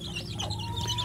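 Free-range village chicks peeping close by, several thin high-pitched chirps overlapping above a low steady background hum.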